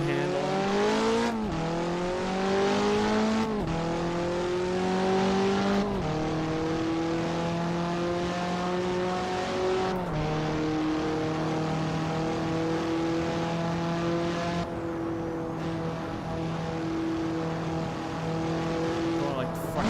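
A racing car engine in the Assetto Corsa video game screams loudly through repeated rising gear pulls, each upshift cutting the tone before it climbs again, sustained high revs throughout.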